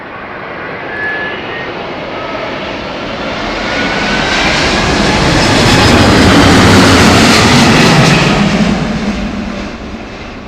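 Airbus A380 engines at London Heathrow give a deep, loud, broadband rumble that swells to a peak mid-way and slowly eases, with no talking over it.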